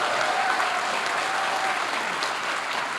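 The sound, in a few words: audience applause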